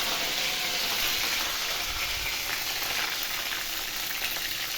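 Curry leaves and green chilies sizzle steadily in hot oil, a dense, continuous crackle close by, with no voices over it.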